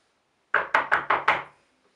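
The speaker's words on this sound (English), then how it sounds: "the wolf goes straight to the grandmother's house and knocked at the door" Five quick, loud knocks rap on a wooden door in a tight, even burst, close and alone, before a short silence in a staged Little Red Riding Hood play.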